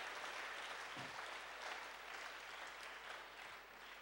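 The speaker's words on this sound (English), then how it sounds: "Can you clap your hands for this mighty, wonderful, holy, powerful, matchless God?" A church congregation claps together in sustained, dense applause that holds at an even level throughout, a large crowd of hands sounding from across a wide room.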